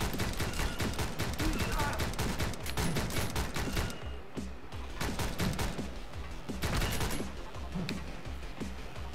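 Rapid bursts of gunfire from the side-scrolling shoot-em-up game Speed Limit, dense and continuous with repeated shots and a short lull partway through, with faint talking mixed in.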